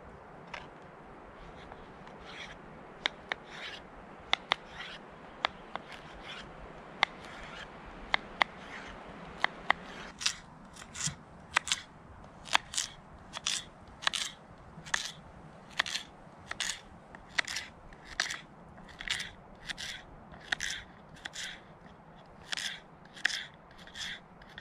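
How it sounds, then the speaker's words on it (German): A knife cuts zucchini into cubes on a board outdoors at a campfire, making a long series of crisp, steady chopping taps that grow more regular and rhythmic as it goes, with no talk. "Als nächstes schneiden wir die Zucchini"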